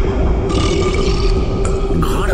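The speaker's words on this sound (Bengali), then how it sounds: "তুলেছে তুলেছে, দৈত্য ঢেকুর তুলেছে।" A loud, deep, drawn-out burp from a giant demon, played as a sound effect in a Bengali audio drama. It fills the moment with a rough, resonant rumble.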